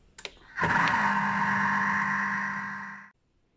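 A food processor whirs at speed 3 for roughly two and a half seconds, mixing Breton shortbread dough, close and steady with a low motor hum, preceded by a couple of brief clicks.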